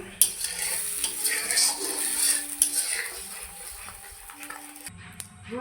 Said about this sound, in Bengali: আবারও ভালো করে মিশিয়ে নেব